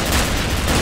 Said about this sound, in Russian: Тут везде стреляют